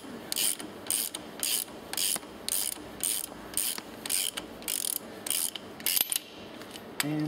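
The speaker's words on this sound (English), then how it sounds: "we want to unwind it all the way out of the crosshead" A plunger assembly is unwound out of a crosshead in a C1 kit installation, giving a rapid series of loud, regular ratcheting clicks in short bursts, close up and with no talking.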